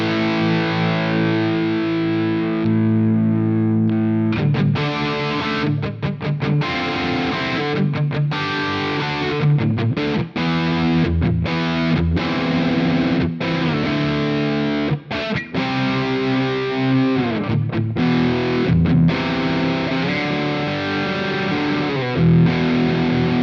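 An electric guitar plays through a Quad Cortex amp capture and a V30 speaker cabinet. The tone is thick, heavily distorted and slightly dark, with chugging palm-muted riffs and sustained chords playing continuously and loudly.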